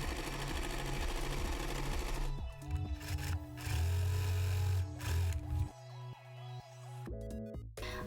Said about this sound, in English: I'm going to fold the 2 sides and sew them